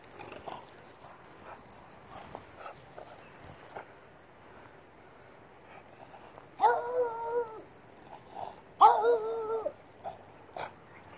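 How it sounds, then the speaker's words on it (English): A big dog gives two short barks outdoors near a waterside fishing spot, each a brief harmonic burst a couple of seconds apart, rising above faint background rustling. "Oh God, big dog."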